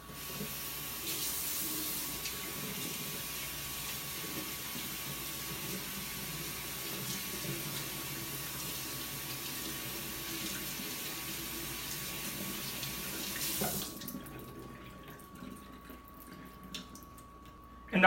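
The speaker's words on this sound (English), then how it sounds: "After draining water, I'm going to wash them a couple of times again." Shirataki noodles are rinsed under a running kitchen tap, a steady close stream of splashing water lasting about fourteen seconds before it stops, leaving a few faint drips and handling knocks.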